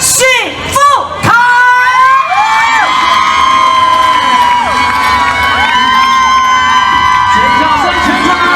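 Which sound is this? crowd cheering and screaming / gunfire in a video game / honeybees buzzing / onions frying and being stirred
crowd cheering and screaming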